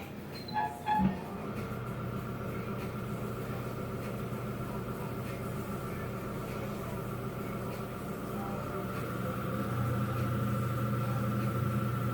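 A Shimpo RK2 pottery wheel runs continuously with a steady motor hum and whine that grows slightly louder toward the end, after a few brief knocks at the start and with no talk.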